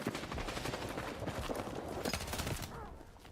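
Sustained automatic gunfire in Battlefield 6, a dense rattling fusillade of rapid shots, loud and near, easing slightly toward the end.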